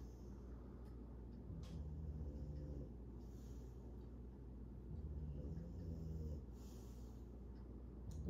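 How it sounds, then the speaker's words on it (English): A puppy snores softly nearby, its slow breaths rasping and snorting in a gentle, repeating rhythm over a quiet, low room hum. "You can enjoy the sweet sounds of a snoring puppy."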